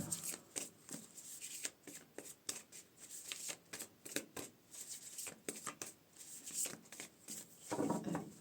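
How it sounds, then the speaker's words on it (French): Tarot cards shuffled by hand, a close, quiet run of rapid papery riffles and flicks in uneven bursts, with no voices. "je remélange encore"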